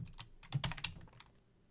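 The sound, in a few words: typing on computer keyboard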